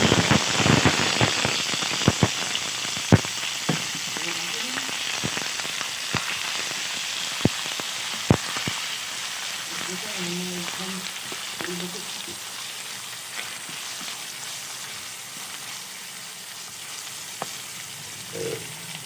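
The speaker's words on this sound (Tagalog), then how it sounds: "Lagay na natin ang ating chicken." Chicken pieces hitting hot oil with garlic and onion sizzle in a steady broadband hiss, with sharp pops and spatters scattered throughout, plus faint clinks from a pan in a home kitchen.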